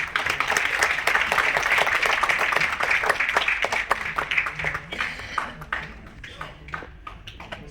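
An audience at an All India artist association award function claps in a dense, lively burst that gradually thins into scattered, sparser claps toward the end.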